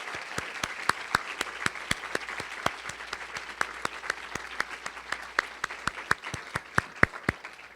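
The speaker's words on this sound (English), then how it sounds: "can all of our awardees please stand up for a round of applause" A crowd at a women's achievement awards ceremony gives a sustained round of applause for the standing awardees, with dense, steady clapping and sharp individual claps standing out throughout.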